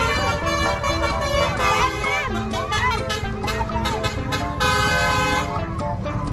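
Telolet bus horn blaring a loud, melodic run of rapid musical toots over busy road traffic and engine noise, close by and continuous.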